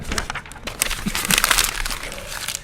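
Paper is crumpled right beside the microphone, giving loud, dense crackling and crinkling bursts that run without pause for a few seconds.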